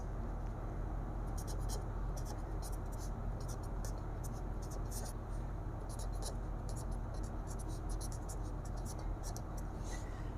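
A math definition is handwritten on a page in repeated bursts of faint scratching pen strokes, heard over a steady, loud background hum.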